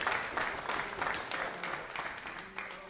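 A live darts crowd erupts in sustained applause and cheering after a winning double checkout, loud and continuous throughout.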